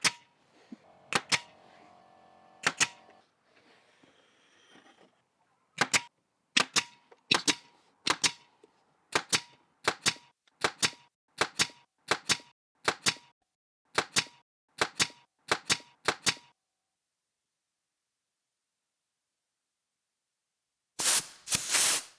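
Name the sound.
nailing a wooden arch backdrop frame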